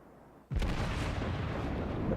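A battleship's main gun fires a single ranging shot in a naval warfare game, a sudden heavy boom that erupts and rolls on as a dense, loud rumble.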